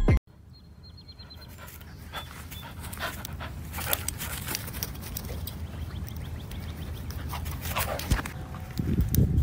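A dog with only two legs walking and panting close by, steady rapid breaths over a continuous background hiss.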